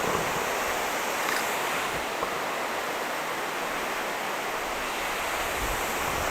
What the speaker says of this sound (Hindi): ये है अलकुदर वाटरफॉल तल भाग।